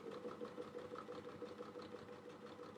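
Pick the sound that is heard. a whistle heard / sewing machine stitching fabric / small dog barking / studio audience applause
sewing machine stitching fabric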